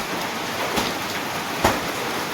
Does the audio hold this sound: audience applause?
no